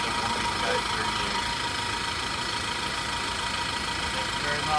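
A car engine runs close in front, a steady low hum and rumble that holds at an even level throughout.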